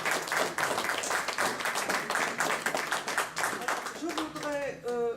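An audience at a political gathering claps for a speaker, with a close, strong burst of many hands that holds steady, then fades as a voice starts speaking over the last moments.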